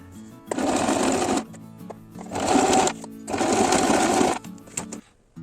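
Sewing machine stitching through paper and card for a junk journal, three loud rapid mechanical bursts of stitching separated by short pauses, close and without talk.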